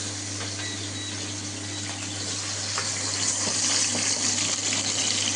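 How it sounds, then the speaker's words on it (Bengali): Liquid poured in a home kitchen while cooking duck breast, a steady rushing, splashing flow that grows a little louder toward the end, over a constant low appliance hum. "আমি ঢেলে দিলাম।"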